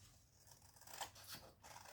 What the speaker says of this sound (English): cutting paper